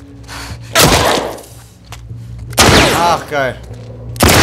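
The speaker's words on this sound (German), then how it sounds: "Wo kommen die Schüsse her?" Loud, sharp bursts of gunfire in the video game The Last of Us Part II crack out in short volleys, while someone talks excitedly over the shooting.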